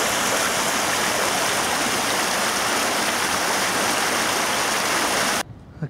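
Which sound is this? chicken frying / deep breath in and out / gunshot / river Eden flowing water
river Eden flowing water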